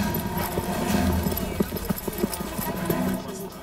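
A trotting mare's hooves clip-clop at a racetrack, a run of uneven, mid-distance thuds over a steady background murmur, with voices faintly present.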